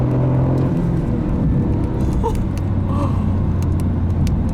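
Toyota GR Yaris engine blipping revs to match a gear change from second to third, heard as a loud, steady in-car drone with a brief rising rev flare partway through, no talk over it.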